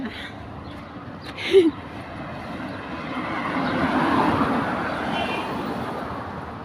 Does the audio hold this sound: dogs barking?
no